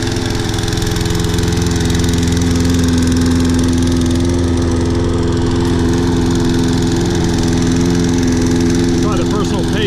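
Toro Personal Pace Recycler 20332 self-propelled lawn mower with a sticking choke runs loudly up close, its engine droning steadily below full RPM with a constant buzzing hum and no change in pace.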